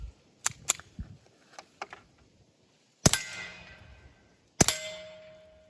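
A suppressed Beretta 71 pistol fires Gemtech 42-grain subsonic .22 rounds: two sharp, loud cracks about a second and a half apart, each ringing briefly with a metallic tail, after a few lighter clicks and clacks.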